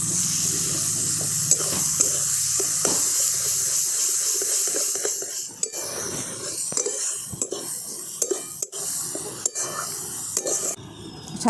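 Boiled red lentils are tipped into a pan of oil spiced with coriander and cumin powder, then stirred with a utensil, giving a steady sizzle and wet scraping with sharp clinks of metal on the pan, close and without talk.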